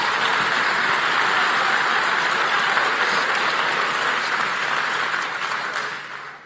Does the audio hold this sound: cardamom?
no